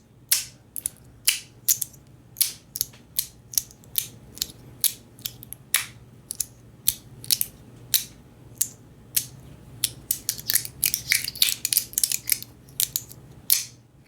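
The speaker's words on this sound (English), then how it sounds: "I find it clicks a little bit easier and louder just because the magnets are moving" Sharp clicks from a Drifter magnetic fidget toy as its magnets shift, arriving close and crisp in an irregular run of snaps that crowds together toward the end.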